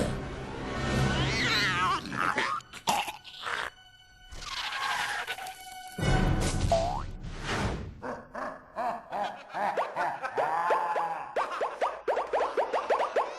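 A lion cub in an animated film lets out a small, weak roar, a few short strained growling bursts up close with other animated voices and effects around it.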